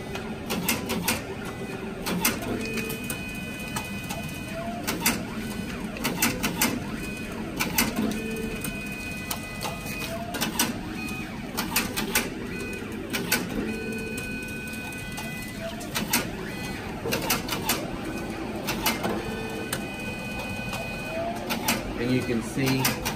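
A Duplo 616 slitter, cutter and creaser trims 8.5 by 11 paper sheets down to postcard size, giving a steady mechanical whir with repeated rhythmic clacks and sharp cutting hits throughout, moderately loud, with some faint chatter in the background.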